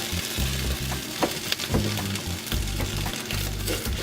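An omelet sizzles steadily in a hot pan as a spatula flips it, with a couple of soft taps heard over the close, continuous frying hiss.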